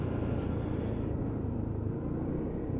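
A Lexmoto Titan motorcycle being ridden on a test ride after work on a cutting-out fault, its engine a steady low rumble that holds level throughout without pause.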